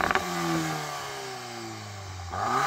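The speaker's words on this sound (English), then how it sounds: "I'm going to start off by revving up this Golf R" A Volkswagen Golf R engine revs up sharply and holds high revs for a couple of seconds. It then drops back and rises again, loud and close, with no talking.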